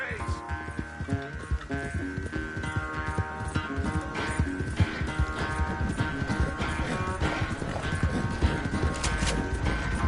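Horse hooves clip-clop steadily in a PS4 video game, blended with layered in-game music that runs throughout.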